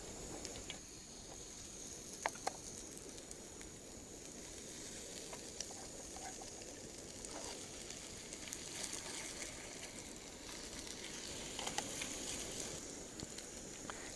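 Crab cakes frying in cooking oil on a small backpacking stove outdoors, a soft and steady sizzle with scattered pops and crackles, fairly faint and uninterrupted.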